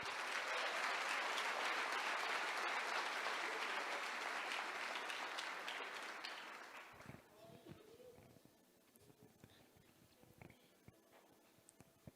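A church congregation applauds loudly for about seven seconds before the clapping thins out to scattered claps and a quiet room.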